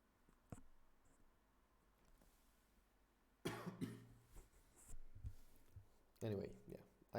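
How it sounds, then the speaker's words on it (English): A throat-clearing cough during a streamer's talk, starting with a brief faint cough early on, then a louder burst of harsh coughing and throat clearing near the close, over quiet room noise. "Sorry, I'll clear my throat."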